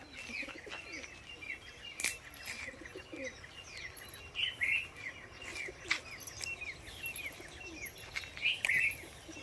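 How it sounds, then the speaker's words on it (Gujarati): Many kinds of birds call at dawn around 6:15 in a rural Gujarat yard where peacocks and peahens sit, with dense overlapping chirps, tweets and dove coos at moderate distance, steady and continuous. "અનેક જાતના પંખી બોલે છે"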